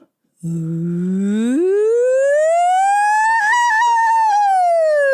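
A single voice imitates a siren, sliding smoothly upward from a low hum to a high, clear tone and holding it with slight wavers.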